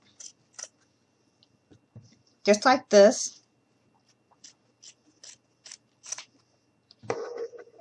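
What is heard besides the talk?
scissors cutting fabric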